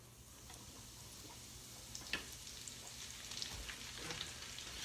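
A breaded rice dish deep-frying in hot oil, giving a faint, steady bubbling sizzle with scattered crackles and pops throughout.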